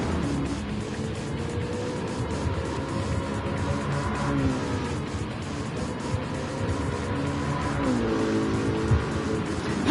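Engine roar and tire squeal from a Ford Mustang racing in Gran Turismo 7, a steady loud drone with rising and falling pitch sweeps as the car accelerates and corners, no talk over it.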